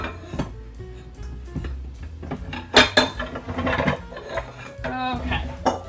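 Mixing bowls for a blueberry cobbler being swapped on a kitchen counter, with several sharp clanks and clatters of bowls and utensils knocking together, close and fairly loud.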